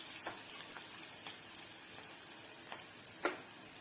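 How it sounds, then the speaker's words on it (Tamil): Chopped onion sautéing in a generous amount of oil for a spicy okra fry, giving a faint, steady sizzle with a few scattered soft pops and ticks, and no talking. "வெங்காயம் நல்லா எண்ணெயில் வதங்கணும்."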